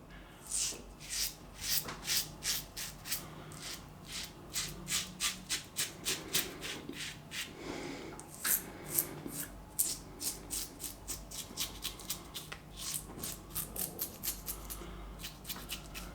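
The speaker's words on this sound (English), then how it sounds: "I can certainly feel the blade doing the work on the moustache there" Close, quiet scraping of a razor blade over moustache stubble in short repeated strokes, each a crisp rasp, continuing steadily with brief pauses between passes.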